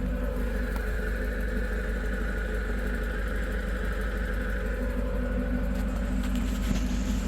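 A firewood processor's engine runs loudly and steadily, a constant mechanical drone with a humming tone and no break, and no voices over it.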